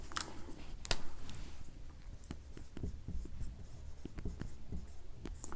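Chalk or marker writes a chemical equation on a classroom board, a run of quiet close scratches and taps in uneven bursts, with no talking.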